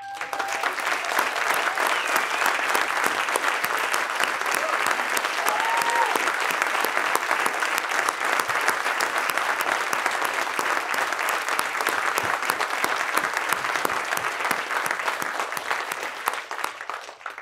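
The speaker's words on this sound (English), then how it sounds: "I want to give you one more round of applause." An audience at a poetry awards reading at the Huntington gives a long, sustained round of applause, with dense, even clapping that holds steady before tapering off near the end.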